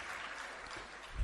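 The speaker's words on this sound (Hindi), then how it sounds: "आपके द्वारा तालियां बज रही हैं" An audience at an afternoon religious sermon claps in a soft, continuous patter of many hands, faint and distant, with a low thump at the very end.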